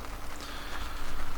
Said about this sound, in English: and the rain has started